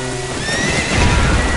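A horse whinnies in Zelda: Ocarina of Time, a loud, close neigh with rising and falling tonal cries, followed by a lower rumbling of hooves and ambient noise.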